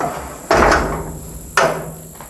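Two solid thumps as a storage compartment hatch on a Hanko 2496 CCVB boat's center console is handled, the first at about half a second and the second a second later, each sharp and close with a short decay.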